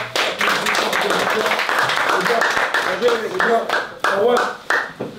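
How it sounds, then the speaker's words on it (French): A football team claps together to celebrate a league win, steady rapid applause lasting several seconds, with a voice talking over it. "on s'applaudit pour cette victoire, les gars"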